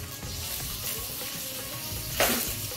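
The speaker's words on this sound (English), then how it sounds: "So be very careful when you're doing this because everything is sizzling." Green chilies and finely chopped ginger sizzle and crackle steadily in hot oil close by, with a brief louder burst of spattering near the end.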